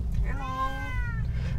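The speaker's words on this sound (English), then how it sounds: "We've got the cat, Annabella and Kalina in the car." A cat meows once inside a moving Tesla Model 3 RWD, a single drawn-out, faint cry rising and falling over the low steady hum of the car.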